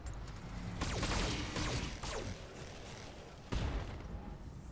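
Mech weapons firing at an enemy mech's head in the Roguetech BattleTech game, several sharp blasts and crashing impacts with sweeping whooshes, loud and dense, no talking.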